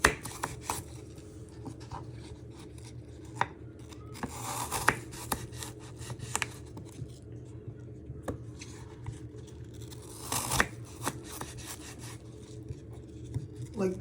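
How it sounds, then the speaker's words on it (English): A kitchen knife slices the seed and cork ends off apples for toffee apple buns, making a string of sharp cutting taps and soft scraping strokes against a board at close range, spaced irregularly over quiet background. "slice the end down where the seeds and cork is, just like that"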